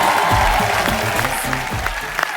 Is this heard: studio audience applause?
yes